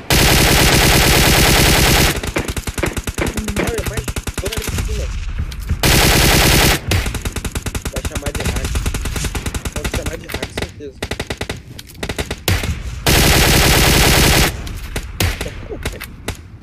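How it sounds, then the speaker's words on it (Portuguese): A bot fires a machine gun in an online shooter game. Long, loud bursts of rapid automatic fire break off into short pauses and then start again. "O bot atirando aí embaixo."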